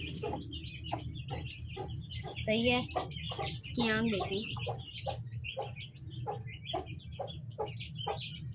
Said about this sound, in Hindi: ये मुर्गी है माशाल्लाह, ये देखें आप